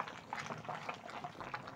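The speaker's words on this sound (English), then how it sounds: "this is a lot of water which I've used to boil my matoke" Water boils in a cooking pot of matoke green bananas. A soft, continuous bubbling and simmering hiss carries on quietly, with no voices.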